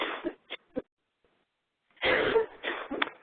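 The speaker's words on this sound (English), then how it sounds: "So I can cough." A person coughs a few times in short bursts, followed after a pause by a louder, longer run of harsh coughing and throat clearing, close to the microphone with no talk.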